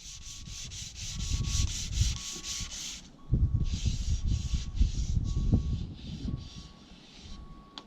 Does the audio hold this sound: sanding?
yes